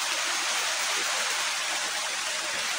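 Rain falling outdoors near a hut, a dense, constant loud hiss with no pauses or separate drops standing out, and no voices.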